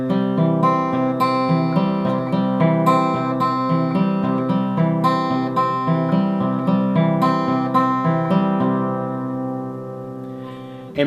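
Steady fingerpicked acoustic guitar in a Piedmont blues style, alternating inside and outside picking strokes over a rhythmic bass, played alone and close for about eleven seconds before the final notes ring out.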